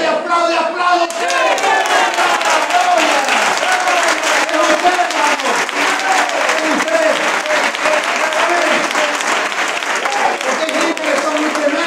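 A church congregation breaks into loud, sustained applause, with dense clapping and scattered cheers and shouts carrying on without pause for about twelve seconds.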